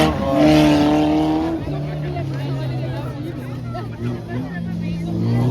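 Stock cars race around a wood-fenced track at Bertrix, engines droning and shifting pitch as they pass, under a commentator's steady talk and crowd babble.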